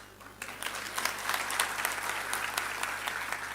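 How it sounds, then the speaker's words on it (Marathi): Thousands of fans applaud at Bhumiputra Bhavan for veteran actor Ashok Saraf, a steady crowd clapping that swells after a quiet start and holds dense and continuous throughout. "ह्या ज्या तुम्ही टाळ्या वाजवताय"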